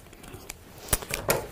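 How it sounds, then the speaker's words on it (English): Scissors cutting a length of yarn at a craft table, with a few quick, crisp snips close by in an otherwise quiet room. "And you just need to cut about a 30cm length"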